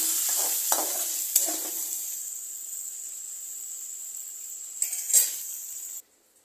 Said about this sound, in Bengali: গ্যাসটাকে একদম বাড়িয়ে দেব, জাস্ট একটু হালকা হালকা ভাজা হবে